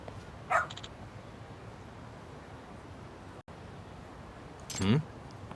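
A dog barks in the video game Lost Judgment. Two short, separate barks stand out over a quiet, hissy background.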